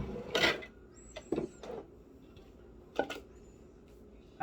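A squash casserole mixture with cheese is stirred in a dish, making a few short scraping and clinking spoon-on-dish sounds in brief bursts, close and moderately quiet, with no talking.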